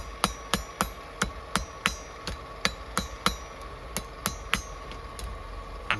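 A small 1.5 pound cross peen hammer strikes spring steel while a bushcraft knife blade is forged, about a dozen sharp ringing blows at an irregular steady pace, close and alone.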